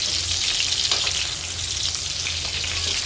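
Sliced onion deep frying in hot oil for beef caldereta, giving a dense, steady crackling sizzle that holds at an even level throughout with no talking.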